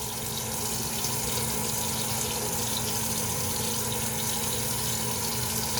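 Water runs steadily from a tap, wetting a face cleanser during a late-night face wash, a constant close gushing hiss with no speech.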